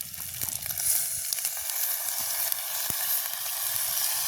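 Liver is added to a pan of sautéed onions and garlic, giving a close, steady sizzle with a few clicks and light stirring scrapes, and no talking.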